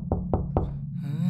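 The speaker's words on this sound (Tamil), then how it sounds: "சதீஷ் கதவு தரப்பா, சதீஷ் கதவு தரங்க" Three quick, firm knocks on a door in an even rhythm, close by, over a low steady hum, followed by a brief bit of voice.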